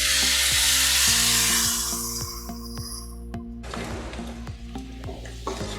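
Mutton stock water is poured into hot masala in a pan, a loud sizzling hiss that fades over a few seconds as a spoon keeps stirring and scraping with regular knocks against the pan.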